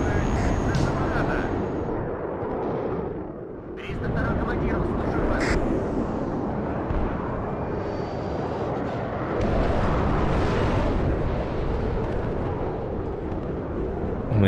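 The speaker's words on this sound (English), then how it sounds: "And the Alpha Jet's going after us." Roaring jet noise of an Alpha Jet attack aircraft in the war game WARNO, a loud, broad rumble with explosions mixed in, dipping briefly before swelling again.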